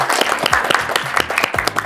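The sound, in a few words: applause for the three guests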